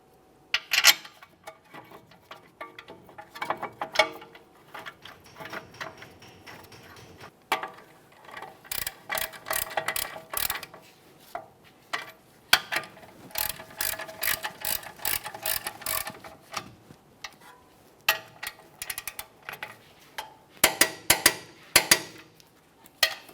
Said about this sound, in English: We'll start these in, snug them up, and torque them to 111 foot-pounds.